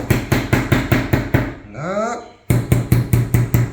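Small metal hammer tapping a stopper closed onto a 13 mm rope dog leash, a fast steady run of close, sharp knocks that pauses briefly while someone speaks, then resumes at the same brisk rhythm.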